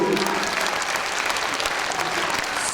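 A concert crowd applauds, with dense, steady clapping from many people filling the whole stretch.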